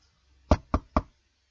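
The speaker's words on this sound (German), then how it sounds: "klopfte es an der Tür" Three quick, evenly spaced knocks sound on a wooden cabin door aboard the Titanic, close and sharp against near silence.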